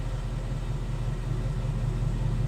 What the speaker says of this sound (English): Okay, so that was start up and now idling.